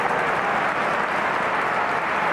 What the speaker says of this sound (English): And appreciative applause for Alexis Sanchez